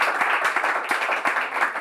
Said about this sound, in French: On peut applaudir très fort le candidat.